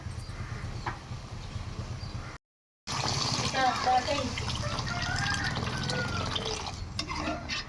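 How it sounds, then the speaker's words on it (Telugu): Water poured into a cooking pot of brinjal and dried fish curry, a gushing, splashing pour after a short silence, with a voice talking over it. "ఇప్పుడు ఇందులోకి సరిపడగా నీళ్ళు పోసుకోవాలి"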